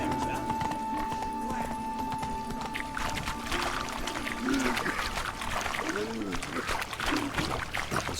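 A horse galloping in The Witcher 3 video game, its hooves clip-clopping in a steady rhythm beneath game music and ambient sound, with voices heard at times.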